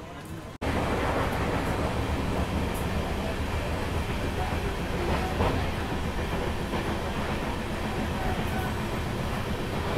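Sleeper class express train rolling onward after leaving Kasaragod station, a constant loud rumble of wheels and carriage noise with faint rhythmic clatter, starting abruptly after a brief quieter moment and continuing evenly.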